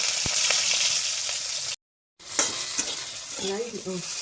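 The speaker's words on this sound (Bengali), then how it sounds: "এখন কড়াইতে যাচ্ছে বেগুন" Eggplant frying in a wok with oil, a steady loud sizzle that drops out briefly, then resumes with stirring clatter and a few louder spatters.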